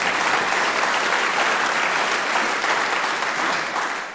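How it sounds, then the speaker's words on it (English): Loud, dense applause from a crowd at a Veterans Day event, sustained and even for several seconds before tapering slightly at the end. "Can I get a round of applause on that?"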